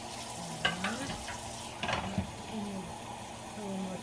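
Dishes are being washed in hot, foamy, soapy dishwater in a sink, with water sloshing and swirling steadily, a few soft clinks, and a faint voice in the background.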